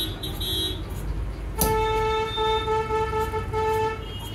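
Street traffic outside in Rishikesh, a steady roar of passing vehicles broken by loud, sustained car and truck horn blasts, with a short toot near the start and a long honk running through the second half.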